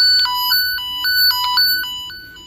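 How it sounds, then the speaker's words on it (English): A wire tracer toner used by telephone and network technicians for tracing phone and data wires warbles out a loud electronic tone that alternates between two pitches in a steady repeating pattern, heard alone. "It's just a toner."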